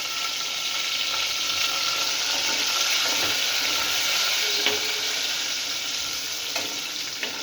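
Spice tempering for Dhaba-style paneer masala (bay leaf, curry leaves, coriander, red chilli powder) sizzles steadily in a hot pan, a continuous close hiss with faint stirring clicks and no voices.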